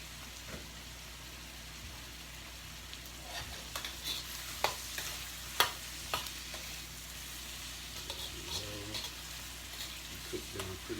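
Vegetable shrimp fried rice seasoned with red pepper, black pepper and Cajun spice frying in a pan, a steady soft sizzle that runs throughout, broken by occasional clinks of a spatula and stirring scrapes.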